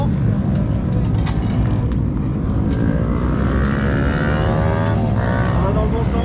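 A racing scooter's engine roars nearby on a race track, loud and continuous throughout, with its pitch sweeping up and down as it revs through the gears.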